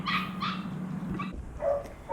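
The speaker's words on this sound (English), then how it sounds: "This is my 14-year-old Chihuahua, Tank." A 14-year-old Chihuahua yaps several times in short, high-pitched bursts with brief pauses between them, fairly close and clear.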